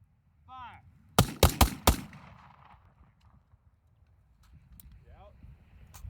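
Four sharp AR-15 rifle shots crack in a quick burst during shooting drills outdoors, loud and close, followed by quiet ambience; spoken commands come just before.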